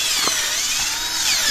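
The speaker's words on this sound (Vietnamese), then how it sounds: "Khoan nhiều quá hết cả pin" A battery-powered drill bores into the trunk of a red sandalwood tree, a loud continuous whining drone close by, with no talking.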